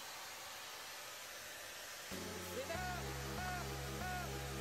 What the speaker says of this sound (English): after around 5 minutes, I'm going with the diffuser attachment. Again with the low heat settings.